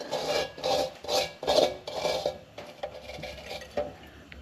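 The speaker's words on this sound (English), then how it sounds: "Scrape some of that stuff off the bottom." A tool scrapes grime off the sole of an old Hibbard Spencer Bartlett No. 2 hand plane in a run of close, rasping metal strokes, about six steady passes that fade into softer, scattered scratches.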